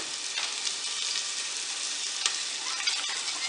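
Ginger-garlic paste with coriander, chilli and turmeric fries in a hot pan, giving a steady, close, continuous sizzle with faint crackles and a few small pops, no voices.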